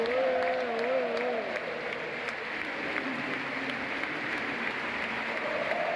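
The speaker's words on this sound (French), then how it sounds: "il entend tout le stade applaudir pour son poste" A football stadium crowd at a Montpellier–Nantes match applauds steadily. The clapping is broad, dense and continuous, with distant crowd noise and a few voices mixed in.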